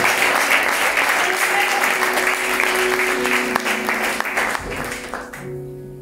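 A church congregation applauding and cheering for God, dense loud clapping with a few whoops and a faint sustained tone underneath that tapers off near the end.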